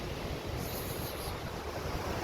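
Sea waves at a beach in Camarines Sur, a continuous loud broadband wash of surf with steady wind rumble and no voices.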